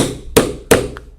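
Two sharp hammer blows strike a rivet setter seated on a crystal rivet cap in a leather belt, evenly spaced and close, each with a brief ringing decay.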